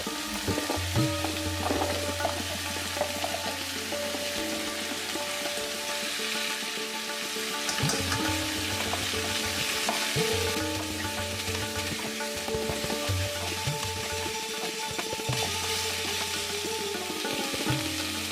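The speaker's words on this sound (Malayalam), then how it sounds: "നമ്മൾ റെഡിയാക്കി വെച്ചിട്ടുള്ള സാമ്പാർ കഷ്ണങ്ങളെല്ലാം ഇതിലേക്ക് ഇട്ട് കൊടുത്തിട്ട് രണ്ടോ മൂന്നോ മിനിറ്റ് നേരം ഒന്ന് വഴറ്റിയെടുക്കുക" Sambar vegetable pieces are sautéed in a pan, producing a steady sizzle with occasional stirring sounds throughout, while a tonal melody plays underneath.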